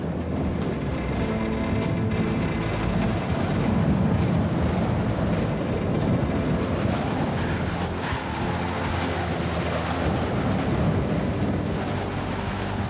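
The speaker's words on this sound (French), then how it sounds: "La puissance de certaines vagues fait craquer le navire." Heavy ocean waves pound a ship's hull during a storm in the South Atlantic, a continuous loud roar of surf and wind with rushing water and low rumble throughout, no voices.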